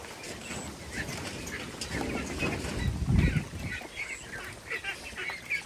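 Penned ducklings being raised for meat give off a busy chorus of honking, quacking calls, close and fairly loud, with rustling and shuffling underneath and one heavier bump midway.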